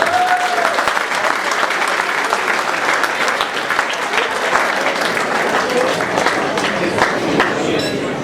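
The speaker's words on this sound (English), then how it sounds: "So a warm round of applause for this outstanding young gentleman." Loud, continuous applause fills the room at a victory dinner dance, many hands clapping in a thick, steady roar for over eight seconds, with faint voices and a clink or two underneath.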